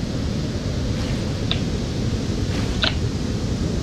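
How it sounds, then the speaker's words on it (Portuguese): A player character sinks into ocean water in Rust with a steady wash of surf-like noise and muffled underwater rumble, plus a couple of faint bubbly splashes, with no talking. "Só ouvi o barulho do meu personagem afundando aqui"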